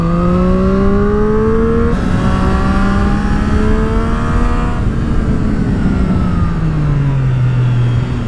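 A Triumph Street Triple R sport motorcycle's engine roars continuously, its pitch sweeping up and down through gear changes as it accelerates and eases off.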